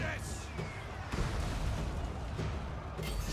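Artillery gunners firing in a Total War: Warhammer Empire battle, with booms and bursts blending into a dense, continuous roar of battlefield noise that never drops away.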